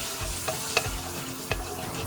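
Butter sizzles in a frying pan, a close, steady crackling hiss broken by a few light utensil taps, with no voices.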